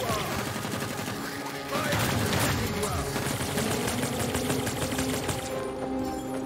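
Rapid gunfire rattles continuously in the action game Anvil: Vault Breaker, dense overlapping bursts of automatic shots that swell louder midway and keep going, close and busy.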